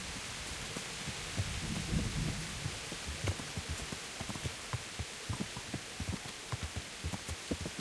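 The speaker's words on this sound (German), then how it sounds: "heute hat sich's eingeregnet in dem Spiel" Steady rain falls in the medieval open world of Kingdom Come: Deliverance, a dense, even wash of downpour with soft low thumps and occasional taps scattered through it, continuous and fairly quiet.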